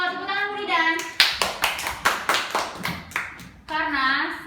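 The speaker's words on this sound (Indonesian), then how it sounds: "ya betul, tepuk tangan Bu Idan." A classroom group claps hands in a rhythmic run of sharp, evenly paced claps, loud and close, with a child's and adult's speaking voices just before and after.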